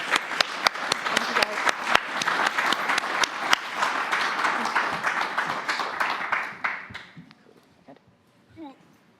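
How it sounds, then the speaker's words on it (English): A live-streamed industry event audience applauds a stage panel, a loud, full burst of clapping with some crowd noise that dies away after about seven seconds into quiet room tone. "Please may I have a round of applause for the panel there."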